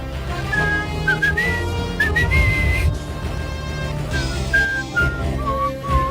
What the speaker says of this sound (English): I'm probably whistling out of sync